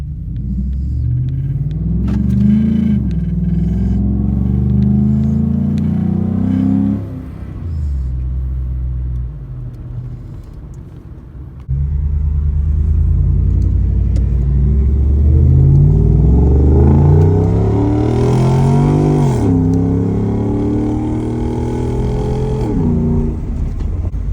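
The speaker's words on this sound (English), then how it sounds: "here's what it sounds like with the cold air intake and the exhaust, now that it's not stock in the cabin" A deep 5.0 V8 exhaust of a 2014 Ford F-150 with cold air intake and muffler delete rumbles loudly from inside the cab, engine note rising and falling through revs with a brief quieter dip midway.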